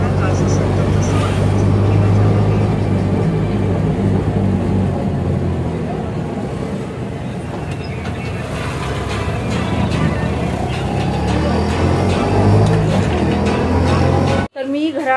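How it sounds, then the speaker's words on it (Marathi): Riding home in an auto rickshaw: a continuous loud engine drone and road rumble fill the whole stretch, with voices talking beneath it, then it cuts abruptly near the end. "तर आम्हाला रिक्षा मिळाले, आता चाललेलो आहोत घरी"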